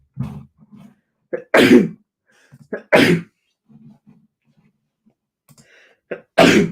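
Three loud, sharp sneezes spaced a second or so apart, each preceded by short breathy intakes and small throat noises.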